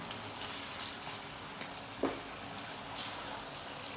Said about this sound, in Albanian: Mëlqit pra do t'i skuqim në tiganin ku kemi dhe qepën me specin.